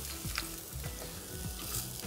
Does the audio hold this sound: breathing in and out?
no